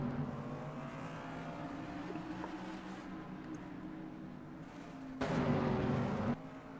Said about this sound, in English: It's green flag racing at the South Boston Speedway for the Virginia 200.